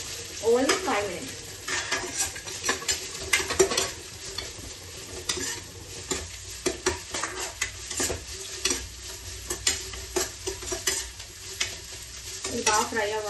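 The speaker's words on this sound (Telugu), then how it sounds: "ఇది బాగా ఫ్రై అవ్వాలి." Chopped vegetables fry and sizzle in a pan for vegetable biryani, stirred steadily with a utensil that scrapes and clinks against the metal, a continuous close crackle with no talk.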